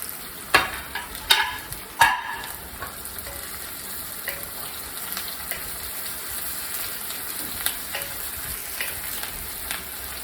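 Chopped onions and ginger sautéing in a pan over medium flame for rava upma, with a soft steady sizzle, a few sharp clinks of a utensil stirring early on and lighter scraping afterward.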